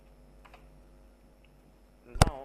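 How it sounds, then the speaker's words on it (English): Keyboard keys are typed into an Excel spreadsheet on a computer, with a few faint taps before a single louder, close click near the end. "If you press alt enter and type March first week"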